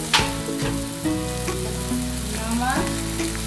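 Coriander powder, deggi mirch, turmeric and other spices frying in hot oil in a pan for a restaurant-style mixed vegetable dish, a loud steady sizzle with scraping stirs, close up and without talk.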